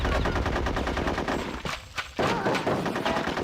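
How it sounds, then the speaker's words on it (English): Constant rapid gunfire in the Conker's Bad Fur Day war chapter, a loud dense stream of automatic shots aimed at the player, briefly dropping out before resuming just as heavy. "Someone is shooting at me"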